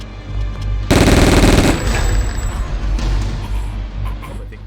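Gunfire in the game Sniper: Path of Vengeance erupts as a loud, fast automatic burst lasting about a second, then trails off into echoing rumble and scattered distant shots.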